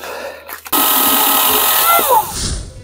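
A loud chainsaw whine starts abruptly and holds steady while cutting wooden posts, then pitches down as the saw slows and stops.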